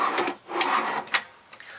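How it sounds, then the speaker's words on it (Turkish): Soft-close kitchen drawers in a caravan sliding and gently braking shut, a few short rolling swishes and soft thuds, close and fairly loud, with no talk over them. "Burada çekmecelerimiz var."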